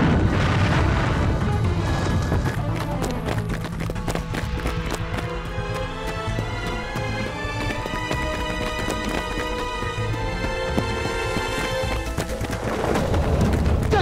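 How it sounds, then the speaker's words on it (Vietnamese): Grenade explosions in a martial arts drama battle scene, loud booming blasts layered over continuous dense fight action, running and hoof-like clatter with music, sustained throughout without a clear pause. "dùng quả lân đạn. Đúng đó, mau nổ bọn chúng đi."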